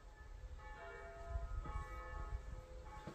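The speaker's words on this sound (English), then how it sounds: "that's why the church bells are ringing" Church bells ring out at noon on a bank holiday near a five-bedroom house with views, heard at a distance with steady repeated tolling and overlapping chimes under faint outdoor ambience.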